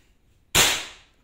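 A single sharp shot from an FX air rifle cracks out loud and close after a moment of quiet during an accuracy test, its bright burst fading quickly over about half a second.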